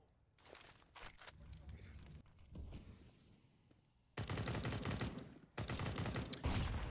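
Rapid gunfire bursts from the video game Counter-Strike, shots fired through smoke during a G2 versus Natus Vincere match, come as two loud, dense volleys in the second half, after quieter clicks and footsteps-like shuffling, with faint talk in the background.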